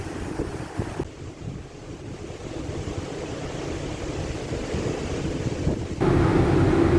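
Wind and sea waves on the outer deck of the passenger ship KM Nggapulu, a loud continuous rush of gusts buffeting the microphone over the churning wash of water, steady throughout with no voices.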